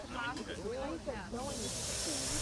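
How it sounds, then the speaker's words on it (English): Steam locomotive 3801, newly restored in green livery with yellow lining, standing in steam on display at a museum amphitheatre in New South Wales, gives off a loud broadband hiss that swells midway, with people talking nearby underneath. "there was however one locomotive on display at the museum's amphitheatre in steam"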